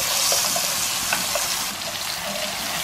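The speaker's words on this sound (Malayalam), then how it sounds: "എല്ലാം കൂട്ടിയിട്ടൊന്ന് ഇളക്കി കൊടുക്കണം." Ground tomato paste is stirred into a fish curry masala in a hot pan, giving a loud, continuous frying hiss with faint scraping throughout.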